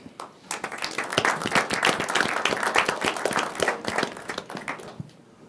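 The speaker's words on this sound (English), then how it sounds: "let's give a big round of applause one more time for these students who worked so hard" An audience at a county commission meeting claps for students, a dense burst of applause that builds quickly, holds at a lively level for several seconds, then tapers off near the end.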